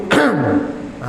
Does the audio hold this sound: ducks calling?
no